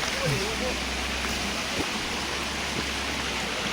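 A waterfall in hilly terrain gives a steady, broad rushing roar throughout. Faint voices come through now and then beneath it.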